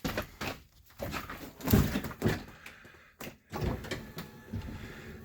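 A school bus door being worked during a pretrip inspection in Manitoba gives a series of mechanical thunks and clatters, some sharp and some softer, spread unevenly over five seconds with no talking.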